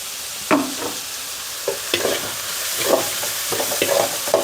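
Onions with salt and turmeric fry in a pan, crackling and sizzling steadily while a spoon stirs and scrapes in several distinct strokes, close and moderately loud, with no voices.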